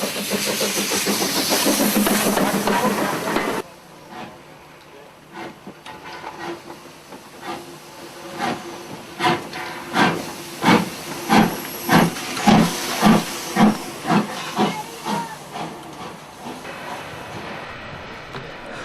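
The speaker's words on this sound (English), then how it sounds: "The Isle of Wight Steam Railway" Steam locomotive on the Isle of Wight Steam Railway, on the old Ryde to Newport line: a loud steady hiss of venting steam cuts off, then rhythmic chuffing builds up and grows stronger, with no talk.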